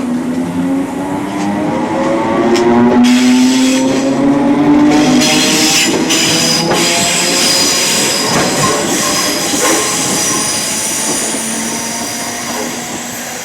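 A Scottish passenger train runs through Mount Florida station on the Cathcart Circle line. Its wheels squeal loudly and keep whining against the rails over a steady rolling rumble, sustained and close, then easing slightly toward the end, with no speech.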